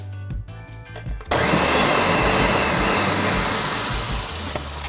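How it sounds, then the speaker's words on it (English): A countertop blender pulses milk and egg for ponche, a spiked egg nog. After a brief low hum it kicks into a loud, steady whirring roar that holds to the end, with no talking. "as we blend this milk, we're going to add the egg so that it doesn't curdle"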